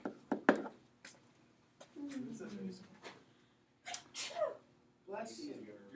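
A single sharp sneeze bursts out near the start in a quiet room, followed by people talking in short spoken phrases.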